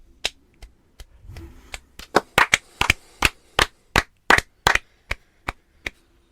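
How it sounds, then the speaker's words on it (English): Sparse, sharp claps ring out one at a time, about twenty of them over several seconds, steady and close. They sound like a few people clapping at a sports podcast taping rather than a full round of applause. "Can we get a round of applause?"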